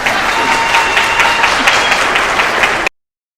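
Steady dense applause from an audience at a county fair royalty contest in Jackson County, continuous and fairly loud before cutting off abruptly near the end.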